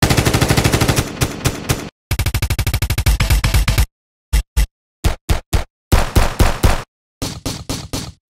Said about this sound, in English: for the gunshot sample, I took a bunch of gunshot sound effects from video games, layered them with a bunch of compression and EQ